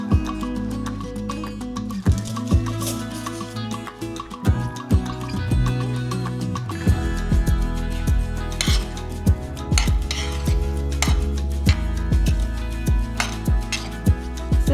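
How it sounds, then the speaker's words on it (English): A big spoon stirs a bowl of Texas caviar, with repeated close scraping and clinking against the bowl in an uneven rhythm over loud background music. "we are going to stir this together first before we even touch the avocado. So let me grab a big spoon"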